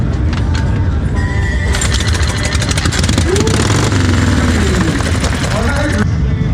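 A kick-started motorcycle engine runs and is given throttle, its pulsing idle rising into revs beneath excited voices talking over it.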